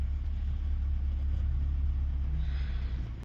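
A small car idles with a steady low engine rumble while stopped in a traffic jam on a mountain road, continuous and close, cutting off abruptly at the end.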